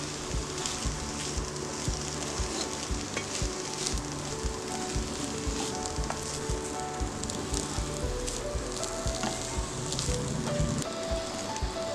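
Mushroom fried rice is stir-fried over a full gas flame, giving a continuous, even sizzle with a crackling, rain-like texture and occasional scraping of the stirring, steady and close for the whole stretch.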